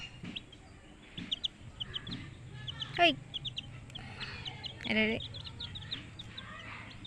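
Chickens clucking at a distance in a quiet rural yard, a few scattered clucks and calls over low background hum, with a brief exclamation from a voice.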